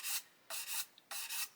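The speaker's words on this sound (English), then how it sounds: "So I've got a 600 grit stick," A 600 grit sanding stick rubs over a raised ridge of super glue on a plastic 1/72 Airfix Lancaster B.III kit, giving three short, close, dry raspy strokes separated by brief pauses.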